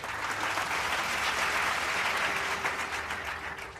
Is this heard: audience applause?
yes